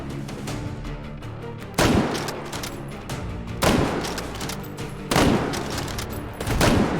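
Gunshots from a firearm in the VR shooter H3VR, four loud sharp reports spaced a second or two apart, each followed by a brief ringing decay over a low steady background.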